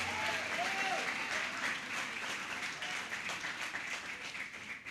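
Church congregation applauding, a steady dense wash of many hands clapping together with faint voices mixed in, sustained and fairly close for the whole stretch.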